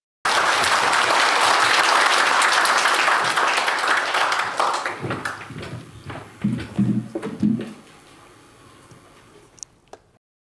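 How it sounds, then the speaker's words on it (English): An audience at a corporate social responsibility lecture welcoming Khenpo Sodargye breaks into full, dense applause that holds for several seconds, then thins into scattered individual claps and fades to near silence. "let us all give a truly warm round of applause, please"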